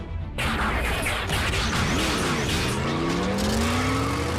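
Cartoon robot vehicles rev their engines and peel away, loud engine whine with rising and falling pitch sweeps and tire squeal, dense and continuous after a short quiet start.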